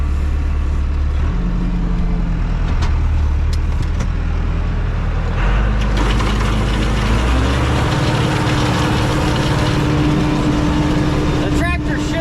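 A Massey Ferguson 390T tractor runs steadily while loading manure on a farm, its low engine drone filling the scene throughout, shifting slightly in pitch midway as the load changes.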